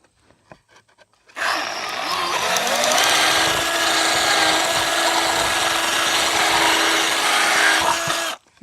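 A power drill with a larger bit enlarges a hole while a bird house is built from upcycled materials. It is a single close, loud, steady run of whirring and grinding lasting about seven seconds, following a quiet start.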